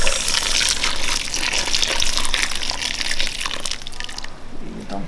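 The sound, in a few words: boiling water poured onto tomatoes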